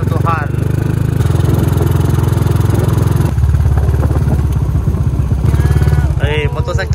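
A sputtering motorcycle engine, pulsing steadily and close, labours on the way to a repair shop, with rising and falling revs and a short interruption near the middle; a voice comes in briefly at the start and end.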